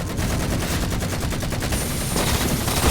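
Rapid automatic gunfire from the video game Halo, a steady stream of dense shots running continuously at close range, growing slightly louder toward the end, with no talking.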